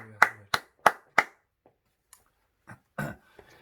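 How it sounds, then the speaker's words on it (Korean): A church congregation at a dawn service claps in four sharp, evenly spaced claps, followed by a few scattered, fainter claps in a quiet room. "한 주간을 인도하신 주님께 영광의 박수 한번 합시다."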